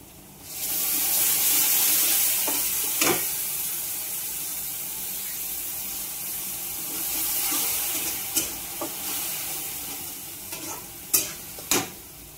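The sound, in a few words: stirring tomato puree into frying onions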